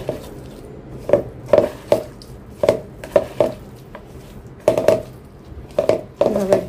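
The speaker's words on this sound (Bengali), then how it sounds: "এখন হচ্ছে এটা আমি ভালো করে মাখাবো, হাত দিয়ে চটকে মাখাবো।" Sea fish is being mixed and mashed by hand with a little oil in a bowl, giving a series of sharp, close, irregular squelching slaps and knocks with short pauses between them.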